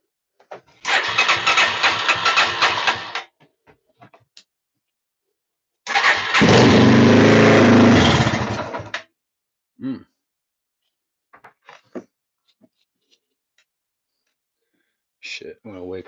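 Yamaha TTR-230 dirt bike, 2005-or-later electric-start model, cranks and fires in two loud bursts separated by a pause, revving briefly before cutting out; a few faint knocks and clicks follow.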